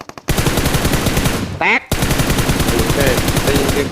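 Rapid automatic gunfire rattles loudly and continuously in PUBG Mobile, broken by a short gap with a brief electronic game sound before the burst resumes.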